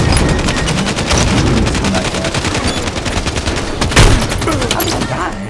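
Loud, rapid automatic gunfire rattles in Halo 5 4v4 Slayer multiplayer, a dense stream of evenly spaced shots with a sharper blast near the end, over other game effects.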